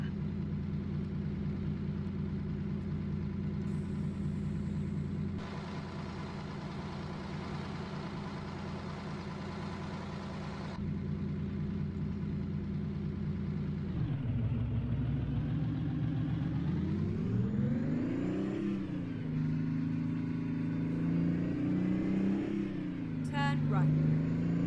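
A Kenworth K100 cabover truck with a 500-horsepower engine and an 18-speed transmission, in the game American Truck Simulator. The engine idles steadily, then revs and drops as it climbs through gears, with a voice talking over it.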